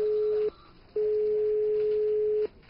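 A telephone busy signal after a hung-up call sounds as steady pulsed tones, a short beep then a long one, clear and alone on the line.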